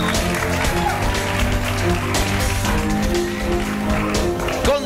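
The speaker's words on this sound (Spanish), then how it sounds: "¡Aplausos!" A television game show studio audience breaks into sustained applause and cheering while upbeat music plays underneath, a busy, continuous wash of clapping.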